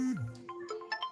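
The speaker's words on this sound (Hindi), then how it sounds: "मेरे पति का फोन आ रहा है।" A phone ringtone signals an incoming call during an Awadhi folk-song live stream: a short electronic melody with a sliding tone followed by several bright chiming notes, heard alone and fairly close.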